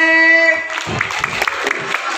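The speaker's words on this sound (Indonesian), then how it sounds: "Tepuk tangan buat kepik" Children applauding at a kids' event, a burst of clapping and crowd noise rising right after a held sung or electronic tone, dense and fairly close.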